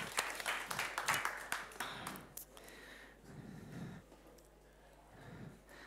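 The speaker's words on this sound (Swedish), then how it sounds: "kan få en rungande applåd tycker jag" A seminar audience gives a burst of hand applause for a speaker. It is lively at first, then thins out and fades into quiet room noise with scattered claps and shuffling.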